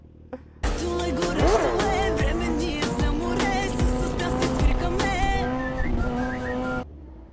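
A black Suzuki motorcycle ridden on its rear wheel through the streets of Varna, its engine roaring loud and close with rising and falling revs for several seconds, then cutting off abruptly.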